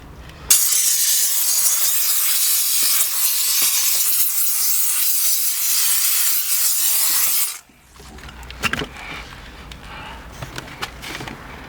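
A steam cleaner hisses loudly and steadily for several seconds while cleaning around the gauges of a car's interior dashboard, then cuts off, leaving faint handling noises and light knocks.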